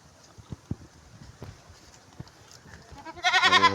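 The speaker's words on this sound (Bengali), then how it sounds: "এই হচ্ছে আমার আরেকটা ছাগল।" A pet goat bleats loudly at close range near the end in a short run of wavering cries, after a stretch of quiet with scattered soft knocks and rustles.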